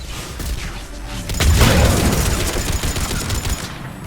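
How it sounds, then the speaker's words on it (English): Missiles launch and detonate in Mass Effect 3 during the Thessia mission, a dense barrage of booms and crackling blasts peaking midway, loud and close with no talk. "Missiles away"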